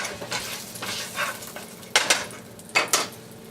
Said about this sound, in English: We're going to throw these medallions in the hot pan.